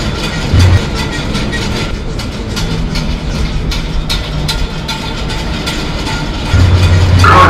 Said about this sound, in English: This is an Amtrak, an American bullet train to Boston South Station.